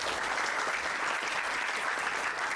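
Steady, dense applause from an audience at a youth football meet-and-greet for Gala Siswa Indonesia alumni, continuous and even from start to end.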